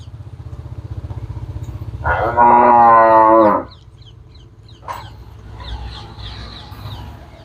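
A pregnant Jersey cross cow lets out one loud, close moo lasting about a second and a half, over a steady engine-like hum, followed by faint distant bird calls.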